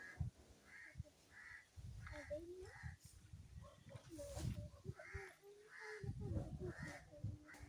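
A crow caws repeatedly on a house terrace, its harsh calls coming in a steady rhythm of short bursts, close and clear, while a person talks underneath.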